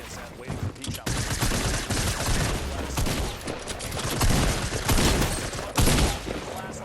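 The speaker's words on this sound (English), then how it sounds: "Shots coming from right there." Sustained gunfire in a Fortnite-style battle rattles almost without pause, dense bursts of shots layered over one another at close range, dipping briefly and then surging again.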